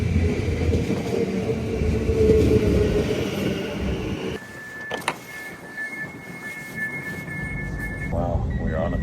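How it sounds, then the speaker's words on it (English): Steady low rumble of a train interior while riding, loud broadband noise that drops partway through, followed by faint tonal whines and brief clunks, with no talking. "Wow, we're on a train."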